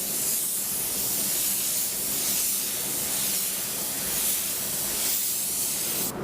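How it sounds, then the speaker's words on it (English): Spray gun with a 1.6 tip at 1 bar laying a first sealing coat over polyester filler in a car body repair, a continuous close airy hiss that swells and eases slightly with each pass. "I would normally spray 1 coat just to isolate the polyester itself, seal off any pores"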